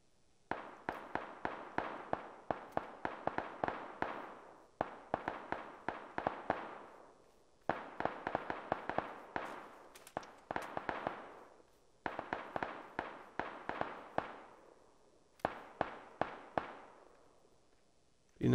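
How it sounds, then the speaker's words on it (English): Distant gunfire in the video game PUBG Battlegrounds, rapid bursts of cracking shots in repeated volleys with short gaps between them, faint and far off. "they're busy shooting at each other."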